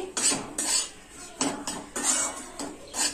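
A metal spoon scraping roasted amaranth (rajgira) flour out of a pan onto a plate, close and fairly quiet, in about six short rhythmic scraping strokes with a clank of metal on metal.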